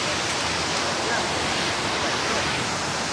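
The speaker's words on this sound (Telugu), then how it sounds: "వాటర్ ఫాల్స్ దగ్గరికి వచ్చేసినాం." A waterfall at Vayalada in Kerala roars as a dense, unbroken rush of falling water, steady and fairly close throughout.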